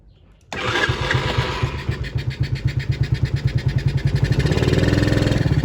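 A small 50cc kid's quad engine catches abruptly and settles into a loud, rapid, pulsing idle that steadies and builds slightly, close by with no other sound.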